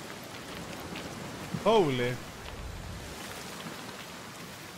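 Steady rain falling in the video game Senua's Saga: Hellblade II, a soft, even hiss continuing throughout, briefly under a short exclaimed voice.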